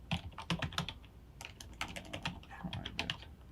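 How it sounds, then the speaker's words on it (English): Fingers tap quickly on a computer keyboard, close up, in uneven bursts of clicky keystrokes with brief pauses, no voices. "I'm not used to this keyboard."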